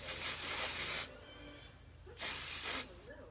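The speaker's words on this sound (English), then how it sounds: "I'm just kind of spraying a little bit underneath the hair." Dry shampoo is sprayed underneath medium-length hair in two close, loud hissing bursts, the first about a second long and the second slightly shorter after a brief pause.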